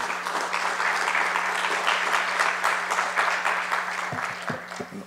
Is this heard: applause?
yes